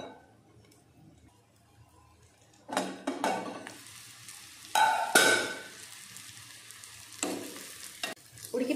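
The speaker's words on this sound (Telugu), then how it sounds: "సో కారం కూడా పచ్చి వాసన పోయే వరకు మనం ఫ్రై చేసుకోవాలి" Chilli powder frying in a pan for a cluster beans curry, stirred in short bursts: quiet gaps broken by loud, close sizzling scrapes and clinks of the spoon, with no talking.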